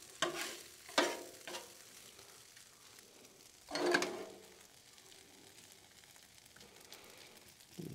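Food frying on a cooler section of a trackside grill, with a soft steady sizzle through the clip and a few louder scraping stirs near the start and middle.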